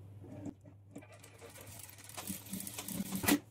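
A sewing machine stitches a blouse with a steady low motor hum and light mechanical clicking. It runs unbroken, with no voices, and grows a little louder and busier toward the end.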